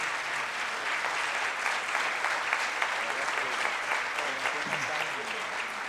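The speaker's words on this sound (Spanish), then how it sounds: "El aplauso." Applause from the audience at a 39th anniversary event of a foundation, steady sustained clapping from a crowd with some voices faintly mixed in, even in loudness throughout.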